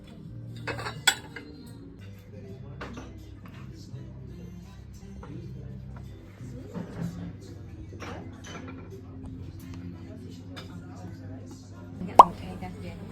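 Plates and cutlery clink at a lunch being served with warm dishes, scattered sharp clatters and a louder clink near the end, under a steady murmur of background voices.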